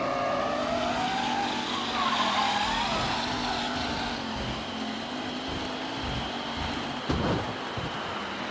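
Race cars roaring around a track together in Mafia: Definitive Edition, a steady layered engine drone with rising and falling pitches as the pack jostles, plus a brief sharp burst near the end.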